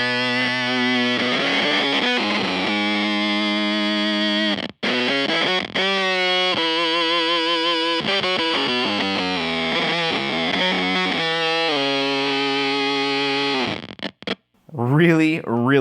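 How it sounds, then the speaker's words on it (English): An electric guitar with a clean tone runs through a Beetronix Swarm octave fuzz harmonizer pedal, giving loud, synth-like fuzzy notes with warbling octave harmonics in choppy phrases and short gaps, then a brief squealing swoop at the end. "It's a really fun, very weird, interesting, unique octave fuzz harmonizer"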